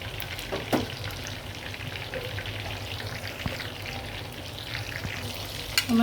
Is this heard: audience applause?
no